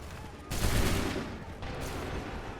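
Musket volleys crack out in the Assassin's Creed III video game, one heavy burst of massed fire followed by a second, thinner volley, heard over a soft background din.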